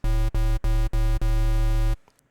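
A Serum synthesizer wavetable tone that keeps only harmonics in multiples of three, for a metallic techno pluck. It is a buzzy, steady, harmonically rich sustained note played in four short bursts and then one longer hold before it cuts to silence.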